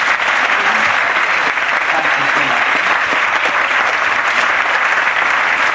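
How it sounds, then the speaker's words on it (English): Audience applause at a Sunday evening church service, a dense, steady wash of many hands clapping that holds loud and even throughout with no pause. "Let's give her a round of applause."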